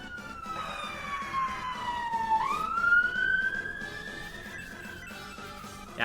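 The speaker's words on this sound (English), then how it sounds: "The ambulance got called." Siren of an ambulance, its sweeping wail dipping and rising again, loud and steady across the whole stretch with no talking over it.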